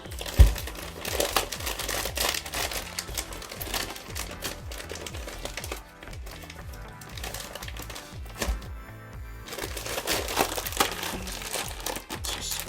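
Crinkly plastic bag of raisins being handled, crumpled and ripped open, a continuous close-up rustling and crackling with dense sharp crinkles throughout and a brief quieter stretch in the middle.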